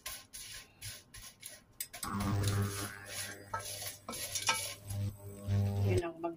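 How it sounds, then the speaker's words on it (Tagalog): Dried anchovies (dilis) rattling and scraping as they are stirred in a hot dry pan before any oil goes in, a close, rough crackling and shuffling that swells after a quieter start, with no talk. "Yan ang magluto ng dilis. Painitin mo muna siya."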